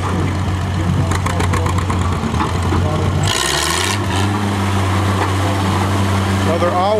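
An Oliver tractor's engine runs at a tractor pull during a steam and gas engine show, holding a steady low drone that dips briefly and then resumes, loud and close, with other noise over it in the middle.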